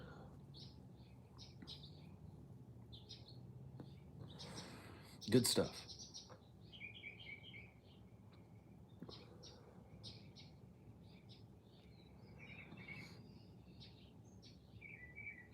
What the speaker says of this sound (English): Got some little sparrows.